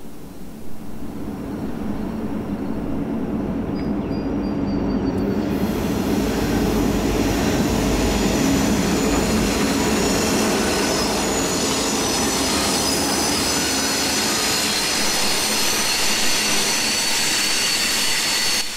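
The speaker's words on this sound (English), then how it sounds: "the heat is coming from the exhaust stack of a high horsepower diesel locomotive" A high horsepower diesel locomotive leads a freight train past, a loud sustained rumble and roar of the engine and rolling cars with squealing wheels, steady and close for the whole passage.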